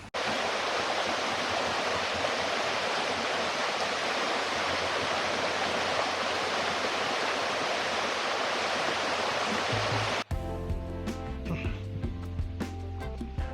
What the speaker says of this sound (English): just listening to the river